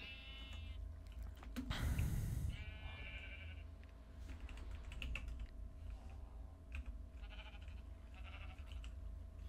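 Sheep bleating in the Minecraft video game, a couple of short, faint bleats standing out over quiet, steady clicking of computer keyboard typing.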